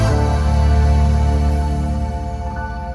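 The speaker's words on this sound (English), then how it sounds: "This is the welcome sound, which is the sound you can configure to play when you first get into your car." Chime-like welcome tone from an Audi S8 infotainment system, a sustained layered electronic swell that starts loud and slowly fades over a few seconds, heard alone without talk.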